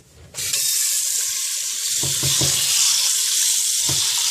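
A loud, close sizzle bursts in and holds steady as an egg fries in a very hot pan, with a few soft knocks and scrapes underneath.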